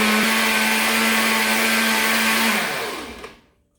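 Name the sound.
blender pulsing enchilada sauce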